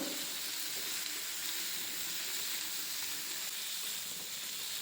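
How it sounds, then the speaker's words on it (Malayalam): Chinese potatoes (koorka) sauté in a pan of cooking masala with a steady, quiet sizzle and hiss that holds evenly throughout, no voices. "കാൽ കിലോ കൂർക്ക എടുത്തിട്ടുണ്ട് അതും ചേർത്ത് വഴറ്റാം"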